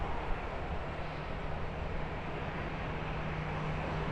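Airplane taking off or landing at an airport, a steady broad roar of engine noise, loud and continuous throughout with no pauses, heard from nearby outdoors.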